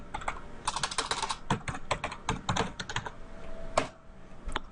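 Rapid typing on a computer keyboard, with dense, crisp key clicks in quick bursts and a few short pauses. Close and clear, with no talking.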